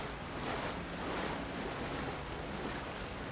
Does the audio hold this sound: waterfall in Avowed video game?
yes